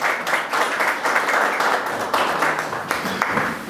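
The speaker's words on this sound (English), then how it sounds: "Give her a round of applause." A dinner audience claps for the speaker's wife, a rippling, somewhat uneven burst of applause with swelling and easing waves, fairly close.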